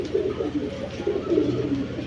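Racing pigeons of the Giribaj type, a breeding pair, coo steadily and close by, with low, rolling calls overlapping throughout and no talking.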